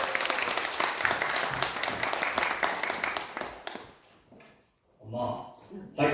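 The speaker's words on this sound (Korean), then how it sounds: "우리 힘찬 박수로 또 환영하도록 하겠습니다" An audience at a Korean speaking contest gives warm applause to welcome a contestant, steady and fairly loud for about four seconds before dying away, followed by a voice speaking.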